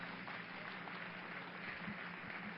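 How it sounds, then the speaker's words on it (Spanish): A church congregation claps during a faith seminar, a faint, distant wash of steady applause with no voices over it. "denle un aplauso bien fuerte al Señor"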